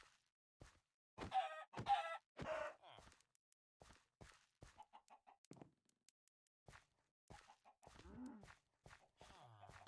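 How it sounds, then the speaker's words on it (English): Chickens cluck in short, scattered bursts inside the CubeCraft SkyBlock block-building game, some calls sharper and nearer, others soft, with quiet gaps between them. "Chickens are really good at kind of being right in the middle of everything"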